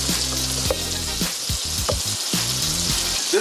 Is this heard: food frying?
yes